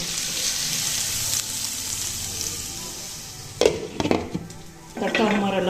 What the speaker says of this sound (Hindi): तड़का हमारा लग चुका है